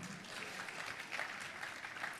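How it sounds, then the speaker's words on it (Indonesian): Audience applause at a church service, steady broadband clapping filling the whole stretch at moderate, somewhat distant level, with no talk over it. "Kita kasih tepuk tangan saudaraku."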